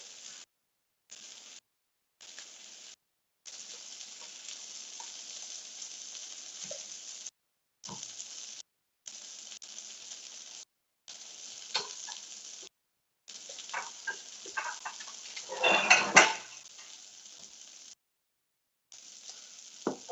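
Jackfruit sizzles steadily in a hot pan for birria tacos. The crackling hiss continues through several abrupt silent cuts and swells into a louder burst of spattering near the end. No one speaks.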